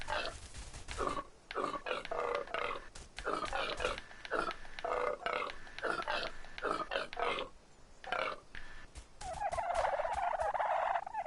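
Creatures in the video game Everything sing back with gobbling, burp-like croaks in a rapid, steady run that swells into a louder, denser warble at the end, filling the whole stretch without talk.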